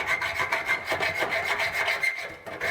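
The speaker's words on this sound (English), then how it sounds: "I don't think they just want to see me sawing this for like the next 20 minutes" A hand saw cuts back and forth through metal on a Royal Enfield motocross bike build, a rhythmic rasping of repeated close strokes, loud and steady with no voices.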